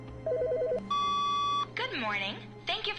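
An in-game telephone rings in The Stanley Parable, a warbling trill followed by a steady electronic tone, then a person talks over the rest of the sound.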